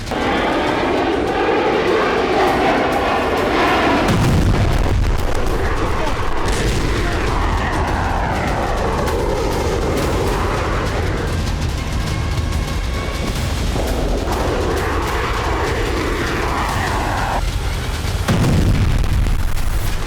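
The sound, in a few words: Israeli F-35I Adir fighter jet and bombing explosions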